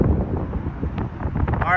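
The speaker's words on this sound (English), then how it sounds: "I think it's windy." Gusty wind buffeting a microphone outdoors, a steady low rumble with surges, and faint voices underneath.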